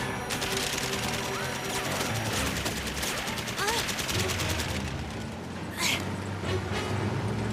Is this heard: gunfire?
yes